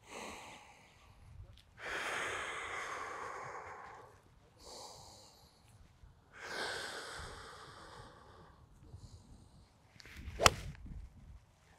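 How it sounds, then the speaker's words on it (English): A golfer takes slow, audible breaths in through the nose and out through the mouth, several long airy breaths close to the mic, then a sharp swish near the end. "I'm gonna go in through my nose, out through my mouth the whole time."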